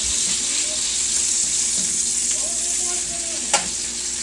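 Whole pack of bacon frying in a pan, a steady broad sizzle running continuously at close range, with faint clinks and a brief sharp tap near the end; no talking.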